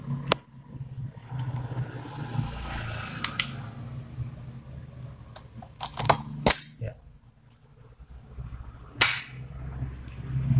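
A contactor in a push-button ON/OFF self-holding control circuit, giving a few sharp, isolated mechanical clacks against a low steady hum, close by with quiet gaps between snaps.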